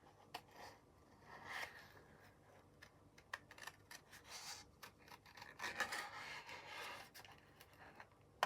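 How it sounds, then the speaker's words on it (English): Scissors cutting thick 300 GSM black cardstock: quiet, close snips and rasping slides of blade on card in an irregular run, with faint rubbing as the card is moved. "Moving my black card as I cut."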